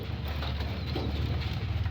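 Pigeons coo close by in a loft, soft low repeating calls layered over each other in a steady rhythm, with no talk.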